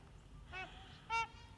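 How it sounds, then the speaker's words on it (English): A pair of geese give two short honks, a brief one followed by a slightly louder one about half a second later, faint and distant over a low rumbling background. "Here comes a couple geese all by themselves."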